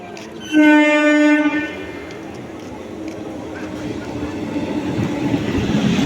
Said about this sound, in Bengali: তো গাইস ট্রেন আসছে, দেখা হচ্ছে।